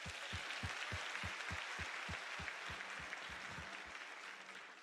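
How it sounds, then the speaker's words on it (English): Applause at a college spring graduation ceremony: a hall full of people clapping in a continuous dense patter, heard at a distance and fairly quietly, with no speech over it. "Another round of applause, please."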